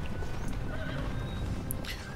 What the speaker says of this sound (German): Und noch mehr Pferde.